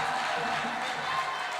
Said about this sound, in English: Let us clap hands for them as they sit down.